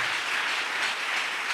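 A church congregation claps and applauds at a Pentecost service, a dense steady wash of many hands that holds at a constant loud level for the whole stretch with no talk.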